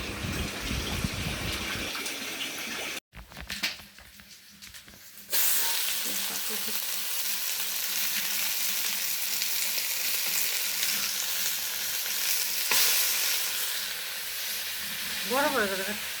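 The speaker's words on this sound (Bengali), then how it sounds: "কয়েকটা কুমড়ি শাক দিলাম।" Pumpkin leaves hit hot oil in a pan with a loud, sustained sizzle and stirring scrapes, the hiss rising sharply a few seconds in, with a brief voice near the end.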